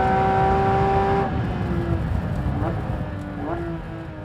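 A Porsche 911 GT3 RS screams along a race track, its high engine note dropping under hard braking into a corner, then climbing again in short bursts as it accelerates away.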